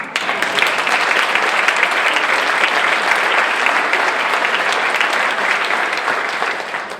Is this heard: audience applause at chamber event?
yes